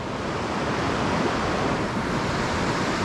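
Steady rushing river water heard from the bank on a sunny late-winter day, a continuous broadband roar with no talk and no breaks.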